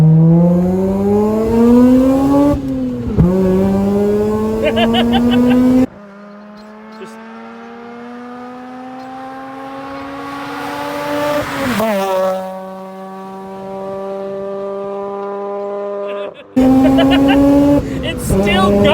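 A Mazda RX8 rotary engine revs hard and climbs through the gears, loud and close, with a long high-pitched wail, shift drops and a brief crackle before the revs surge again.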